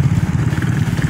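A Honda Beat scooter-motorcycle engine running close by in cold early-morning riding, a loud, even low throb with rapid regular pulsing and no speech over it.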